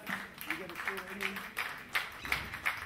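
Audience clapping at a rock concert: a steady patter of hand claps in a regular rhythm, moderately loud in a live room, with a voice and faint music underneath.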